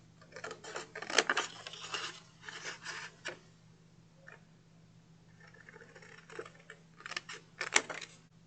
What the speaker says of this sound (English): I'm just going to grab my scissors, not even going to put it in my trimmer, and I'm just going to trim.